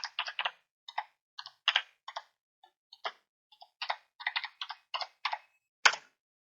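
Keys on a computer keyboard click in short irregular bursts as a password is typed, soft and close, with brief pauses between clusters and one sharper final tap.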